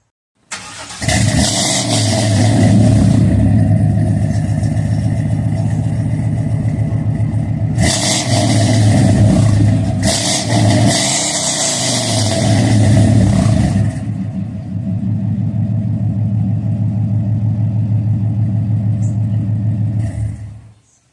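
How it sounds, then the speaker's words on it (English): Car fitted with long tube headers, a new exhaust and a new mass air flow sensor cranks and fires up, then idles loud and rough with a couple of sharp revs, close by, before shutting off. "I'm gonna start it up and let you guys hear what it's sounding like"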